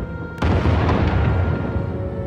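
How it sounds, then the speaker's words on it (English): Bombing in Star Wars: The Old Republic: a heavy explosion booms suddenly after a brief lull, then rumbles on loudly for two seconds. "Sounds like the bombing's getting closer."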